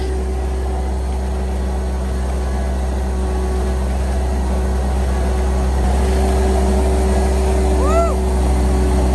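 A tractor engine runs hard while mixing slurry, a loud, steady, droning hum with a constant pitch, and a faint voice briefly rises near the end.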